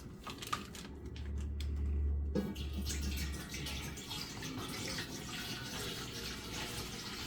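A gallon of water is poured into a container, a brief gurgling splash that settles into a softer trickling wash, with a few light knocks at the start.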